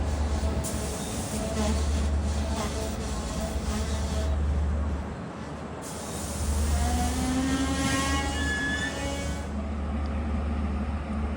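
A six-car Long Island Rail Road train on the Montauk Branch rumbles past outdoors with a steady low roar and rising, sustained horn tones partway through, loud and fairly close.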